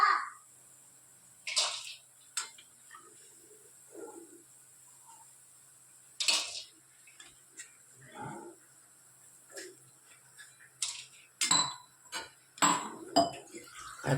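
Crispy spinach pakoras are lifted out of frying oil, giving scattered light clinks and crisp rattles that come in irregular bursts with quiet gaps, soft and close.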